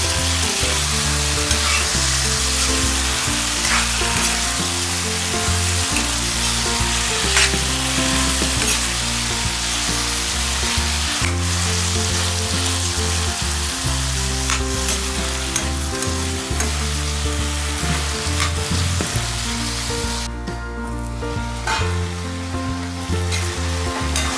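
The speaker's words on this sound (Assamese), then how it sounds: "তাতে মাংসখিনি দি তেল ওলোৱালৈকে ভাজি থাকিলোঁ" Continuous loud sizzling and crackling of chicken frying in hot oil, with occasional stirring scrapes, steady throughout and close by.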